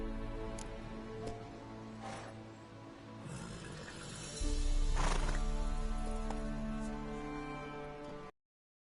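A horse in The Witcher video game whinnies and snorts, with hooves and tack shifting close by; a heavy low rumble swells midway, then the sound cuts off abruptly.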